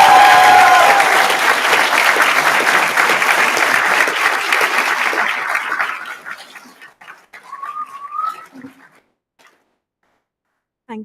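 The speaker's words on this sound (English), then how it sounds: "Give them a big whoop, please." Graduates at a graduation ceremony cheer and applaud their loved ones, loud dense clapping and whoops for about six seconds before fading to scattered claps and a few isolated shouts, then near silence.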